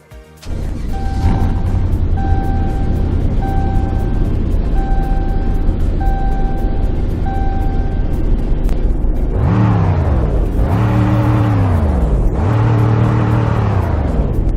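A truck engine in the Roblox game Greenville idles with a steady hum, then revs hard three times in neutral in quick succession, each climb bouncing off the roughly 4,000 rpm limiter before dropping back, loud and close.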